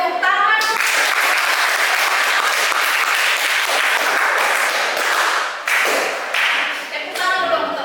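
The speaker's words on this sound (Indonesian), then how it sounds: "Tepuk tangan." Classroom applause from students, a dense burst of clapping throughout with brief dips and a voice speaking at the start and end.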